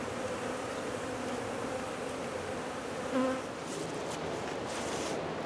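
Honey bees humming inside a beehive: a dense, continuous, close buzz that holds steady throughout, with a brief louder swell near the middle.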